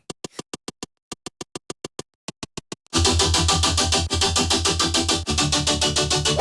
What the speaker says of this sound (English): The goal for the serum patch was to make something plucky